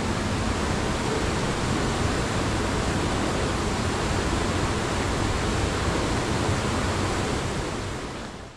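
Dense, steady roar of a waterfall rushing through a gorge and under rocks into a dark cave, loud and close, unbroken for over eight seconds before easing at the very end.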